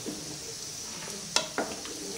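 Chicken being stirred with masala in a pan, a steady soft sizzle with a couple of sharp scraping clinks of the spoon against the pan, close and fairly quiet.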